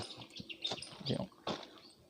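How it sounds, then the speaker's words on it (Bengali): Birds chirp faintly outdoors at a natural picnic spot in Bardhaman, West Bengal, with scattered short tweets and calls spread through a quiet background. "পাখির কিচিরমিচির আওয়াজও আসছে"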